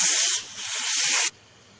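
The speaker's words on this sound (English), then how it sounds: "The steam only takes about a minute and a minute and a half to release." A pressure cooker vents steam in a quick release, a loud, steady hiss that swells, dips briefly, then builds again before cutting off abruptly, leaving faint background noise.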